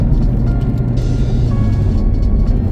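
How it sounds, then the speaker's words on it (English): A 1996 Toyota Celica GT4 taking a corner at speed, heard from inside the cabin as a loud, steady engine and road roar with a shift in tone midway. "Right now I'm going 60 miles an hour around a fucking corner."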